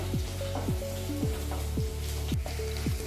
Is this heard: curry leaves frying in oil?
yes